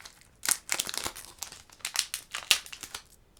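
A Pokémon card booster pack's foil wrapper is torn and crinkled open by hand, giving a close series of irregular crackling, ripping bursts with brief pauses between them.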